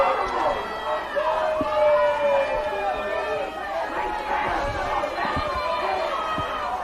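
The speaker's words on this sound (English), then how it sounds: "Musselman crowd not happy with that" Crowd of Musselman fans at a youth football championship game, a broad murmur of many voices with scattered shouts and calls at middle distance, under close commentary talk.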